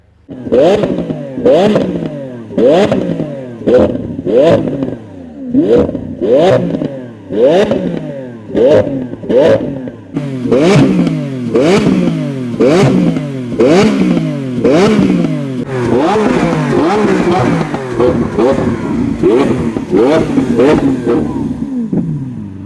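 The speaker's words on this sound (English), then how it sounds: "we had the Aventador SV there revving" A Lamborghini Aventador SV engine revs repeatedly in sharp bursts, each rising and falling quickly, loud and close, with a sustained roaring stretch near the end.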